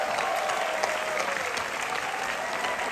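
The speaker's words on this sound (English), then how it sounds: "Give them a round of applause." Concert audience applause at a Valentine's Day 2023 show: sustained, even clapping from a large crowd, fairly distant and uniform, with a faint tonal hum beneath it.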